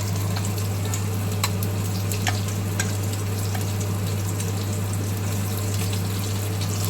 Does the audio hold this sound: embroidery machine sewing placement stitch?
no